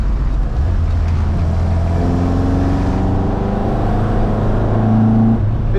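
Ford Mk1 Escort rally car, about 50 years old, droning loudly up close as it drops a gear into a corner, the engine note holding steady then rising, with no voices.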